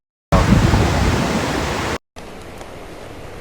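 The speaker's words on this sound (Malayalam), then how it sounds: "ആ പാലത്തിൻ്റെ അടിയിൽ നിന്ന് വെള്ളം ഒഴിക്കുക നിങ്ങൾ ശക്തമായ വെള്ളമാ" Strong floodwater rushing under a road bridge, a loud, dense roar that runs steadily, cuts out briefly, then returns as a quieter continuous rush.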